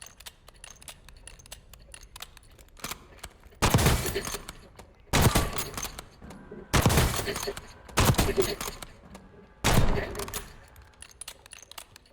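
Automatic weapon fire in the Warzone video game, five separate loud bursts of rapid gunfire a second or so long each, separated by quieter gaps with faint background game sounds.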